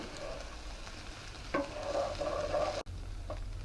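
Chicken fried rice sizzles in a hot pan as it is stirred, with close scraping and stirring strokes over a constant frying hiss and no talking.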